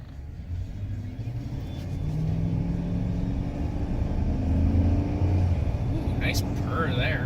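Steady low engine hum and road rumble from a 2019 Chevrolet Silverado truck while driving, continuous and close, rising slightly in the middle; no talk over it.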